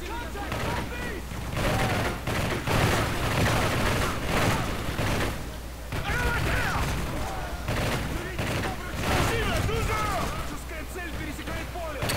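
Gunfire in Modern Warfare 3 Survival mode on the Seatown map, with dense overlapping bursts and booms of a firefight that carry on without pause under shouted game voices and radio-style chatter.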